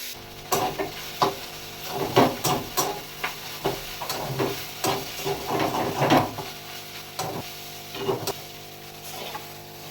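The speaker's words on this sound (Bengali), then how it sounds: "এবার আমি চাউমিনটা দিয়ে দেবো" Chow mein with vegetables being stir-fried in a pan, a steady sizzle broken by a rhythmic series of scraping, clattering tosses from a spatula, close and fairly loud, with no talking.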